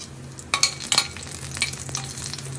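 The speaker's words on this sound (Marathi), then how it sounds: "कढईमध्ये 1 चमचा तूप गरम करून त्यात थोडंसं जिरं आणि मिरची व्यवस्थितपणे परतून घ्या" A spoonful of ghee sizzles in a kadhai with cumin seeds and green chilli, giving a quiet, steady frying crackle with a few brief scraping stir strokes near the start and middle.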